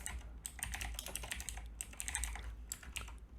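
Rapid, irregular clicking of keys on a computer keyboard, close and steady throughout, with no voices.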